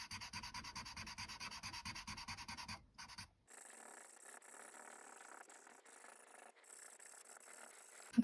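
Soft pastel being rubbed into paper to blend layers while drawing northern lights: a steady, continuous dry scrubbing with quick rhythmic strokes at first, a short pause, then a smoother sustained friction, close and fairly quiet.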